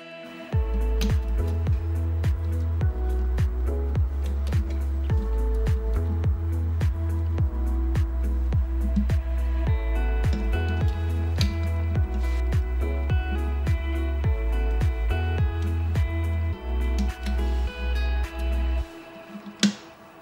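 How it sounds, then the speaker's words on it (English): An RC valve flapper valve on a motorcycle engine is worked by hand, giving a rapid run of crisp mechanical clicks and snaps with low thumps, fairly close and steady, stopping shortly before the end. "we can now remove the cables and test the actuation of the flapper valve"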